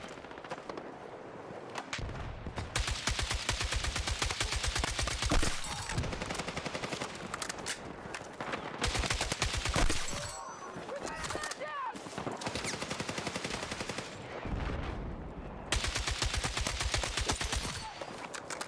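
Sustained bursts of AK-40 rifle fire from Battlefield 6 crackle in dense, rapid volleys with short pauses between them, loud and close, layered over game ambience and distant explosions.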